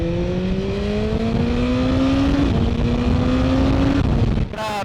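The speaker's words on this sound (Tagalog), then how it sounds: "It doesn't stop revving." A motorcycle engine revs hard during a long road ride, its pitch climbing steadily through high RPM. The strained, close, continuous whine eases off briefly mid-pull, then cuts out near the end.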